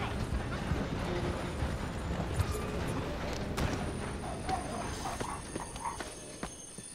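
Horse hooves in the video game Red Dead Redemption 2 clop along steadily at a moderate distance, set against a dense background with a train nearby. Faint voices drift in underneath.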